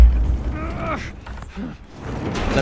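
Door being barricaded in the video game The Last of Us, heard as creaking, grinding scrapes of wood and metal being shoved into place, moderately loud with no talk over it.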